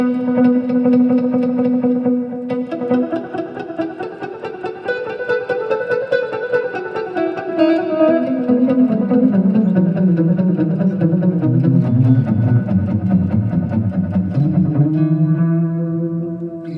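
An electric guitar played through a delay effect set to high feedback, each phrase trailing into loud, stacked repeating echoes that build and smear together over a steady, sustained wash with no talking.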